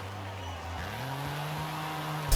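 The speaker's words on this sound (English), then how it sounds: "Really hard, handbrake turns everywhere. Accelerating like mad, spinning, wheel spinning, lots of understeer going on." A Ford Fiesta hot hatch in Forza Horizon 5, its engine droning and rising in pitch as it accelerates hard through handbrake turns and wheelspin, with faint tyre noise, ending in a short thump.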